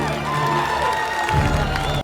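An audience applauds and cheers in a steady, loud wash of clapping with whoops, lasting about two seconds before cutting off abruptly.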